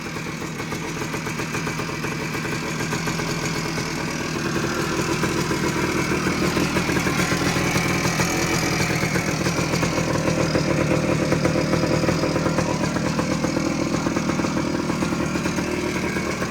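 A Suzuki PE250 motorcycle engine idles steadily with a fast, even mechanical clatter, close and loud throughout, with no talking.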